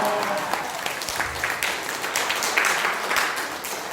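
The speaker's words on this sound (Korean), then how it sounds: "나오실 때 할렐루야로 박수 보내주시기 바랍니다." Church congregation applauding in a sanctuary, a steady wash of clapping from many hands at moderate loudness, continuous for a few seconds with no talk on top.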